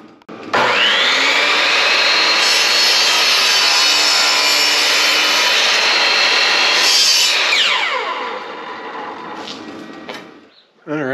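A chop saw in a garage cuts wood, a loud sustained whine and rasp that holds steady for about seven seconds, then winds down with a falling pitch as the blade spins to a stop.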